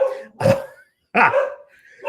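Two dogs at home bark loudly and close by, two sharp bursts separated by a brief silence, with another yelp starting at the end.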